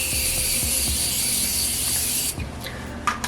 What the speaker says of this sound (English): I'm just gonna go ahead and use the Morphe and just spray up.